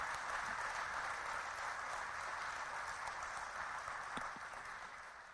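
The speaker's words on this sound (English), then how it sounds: "Can we give the families a round of applause?" An audience at a factory appreciation celebration in Weirton, West Virginia applauds the families, a steady distant roar of many hands in a large hall that slowly fades over about five seconds.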